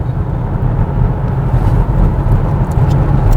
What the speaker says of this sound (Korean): 지금 차가 조금 없어서 한번 가속 페달을 쭉 밟아 보겠습니다.